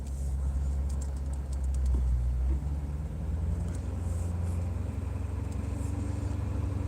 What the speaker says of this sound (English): So here comes another truck coming in too.